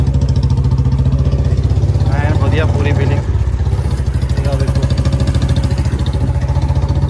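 A Royal Enfield Bullet motorcycle's engine idles close by with a loud, steady low thumping beat that carries on throughout, while someone talks over it.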